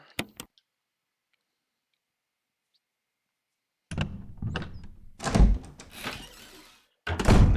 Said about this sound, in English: we're gonna use the key on this door